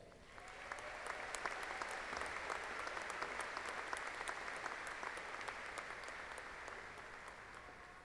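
An audience applauds graduates at Angelo State University's fall commencement ceremony, with many hands clapping in a hall, sustained and fairly distant, swelling in quickly and holding steady for several seconds.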